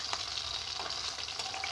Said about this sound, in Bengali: মাছটা লাল লাল করে ভাজা হয়ে গেছে।